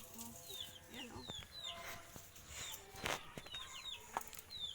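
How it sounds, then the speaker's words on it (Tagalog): Backyard chickens cluck and chatter in a cluster of soft, fairly close calls, with scattered knocks and light rustling around them. "Yan guys, yung mga chicken namin dito."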